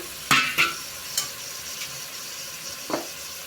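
Mutton frying in a pan with chili, turmeric and coriander powders and salt makes a constant sizzle, with a few distinct spoon scrapes and knocks as it is stirred.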